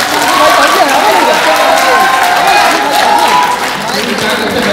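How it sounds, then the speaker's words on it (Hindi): Audience applause at a political rally, a dense burst of clapping and crowd noise mixed with voices and cheering throughout. "एक बार जोरदार ताली"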